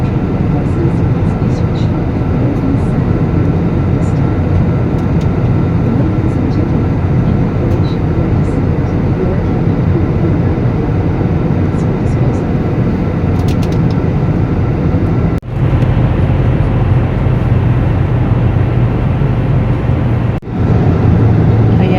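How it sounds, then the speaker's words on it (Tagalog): Airliner cabin during descent on a domestic flight, a loud steady engine and airflow roar that fills the whole clip, with two brief dips in level. "Dahan-dahan ang bumababa ang eroplano."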